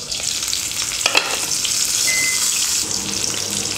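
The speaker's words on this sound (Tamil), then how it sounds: "கம்மி ஃப்ளேமில் வச்சுட்டு குக் பண்ணுங்கள், அப்போ தான் சிக்கன் வந்து நல்லா வெந்து சூப்பராக வரும்." Tandoori chicken cooks over a low flame on a gas stove, giving a steady close sizzle and crackle of frying with faint stirring or scraping, and no talking.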